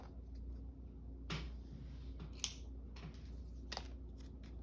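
Scissors snip paper for a junk journal: a few faint, sharp cuts at irregular intervals over a low background hum, close by.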